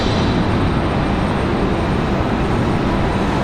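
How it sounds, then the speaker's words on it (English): An American Airlines Embraer E175 regional jet operated by Republic Airways touches down at Raleigh-Durham International, a loud, steady broadband engine and rollout roar that stays constant throughout. "Got an American E175 touching down."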